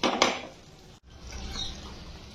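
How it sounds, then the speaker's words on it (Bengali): A metal lid lifts off a pot of simmering dal thukpa with a short clatter at the start, followed by a soft, low bubbling hiss. "5 মিনিট পর আমি ঢাকনাটা খুলছি"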